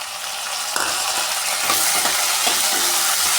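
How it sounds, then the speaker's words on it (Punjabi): A ladle stirs chopped tomato into browned onions and chillies frying in a pan for Punjabi-style chana dal, giving a close, steady sizzle with soft scraping strokes and no talking. "ਬਰਛੀ ਨਾਲ ਇਸ ਨੂੰ ਚੰਗੀ ਤਰ੍ਹਾਂ ਮਿਕਸ ਕਰ ਲਵਾਂਗੇ"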